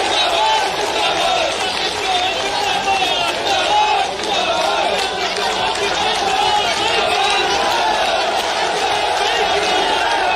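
A large outdoor political rally crowd for the chief minister keeps up a loud, continuous wash of clapping, cheering and shouting, with an amplified voice calling over it from the stage throughout.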